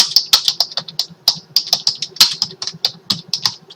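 Brisk, uneven typing of code on a computer keyboard, a steady run of close, crisp key clicks with occasional harder taps, heard alone with no talking.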